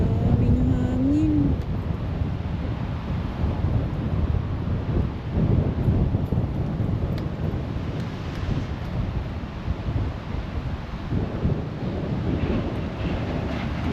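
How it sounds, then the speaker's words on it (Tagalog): Strong wind buffets the microphone outdoors in a roaring, fluctuating rush that runs throughout, with a brief whistle-like tone near the start. "Daming hangin."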